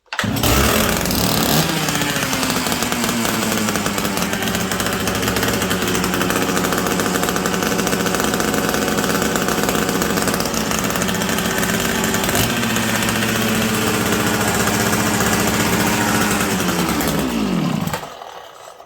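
A ported Sachs Dolmar 133 chainsaw runs on a bench with a loud, close, raspy two-stroke roar held at steady high revs for most of the stretch, then cuts off abruptly near the end.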